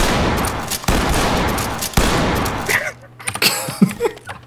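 Rapid gunfire bursts in the tactical shooter game Ready or Not, loud and dense for nearly three seconds, then breaking off into quieter scattered shots and clatter with voices talking.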